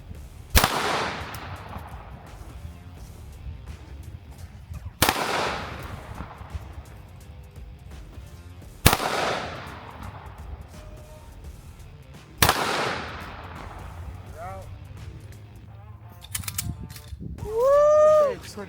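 Four loud gunshots ring out at a gun range, spaced a few seconds apart, each with a sharp crack and a long echoing tail; voices and handling noises follow near the end.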